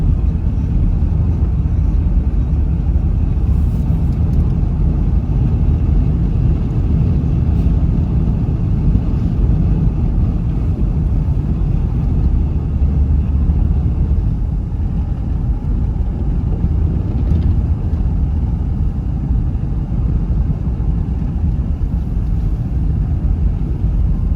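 A car drives along a mountain road in New Mexico, a loud, steady low rumble of engine and road noise from inside the vehicle that continues unbroken and without talk.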